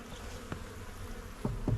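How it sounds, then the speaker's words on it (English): Honey bees crawl over a honey-storage frame lifted from a backyard hive in winter, giving a close, continuous buzzing hum with a few louder passes as individual bees fly near. "A lot of bees on both sides of this frame"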